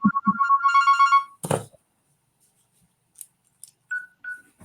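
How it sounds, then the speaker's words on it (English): A phone ringtone plays a rapid, bright electronic trill for about a second, followed by a sharp handling clatter and then a few faint clicks and short beeps as it is silenced. "Is that my phone or your phone?"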